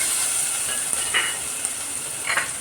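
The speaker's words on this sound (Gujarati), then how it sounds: "હવે મેં આમાં આદુ મરચાં નાખી દીધા છે" Ginger and green chilies sizzle in a hot pan while bread pakoda is being made, a steady hiss that runs throughout with a few brief louder crackles, and no voices.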